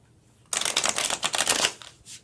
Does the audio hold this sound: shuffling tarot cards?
yes